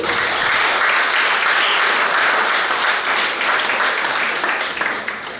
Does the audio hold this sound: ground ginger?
no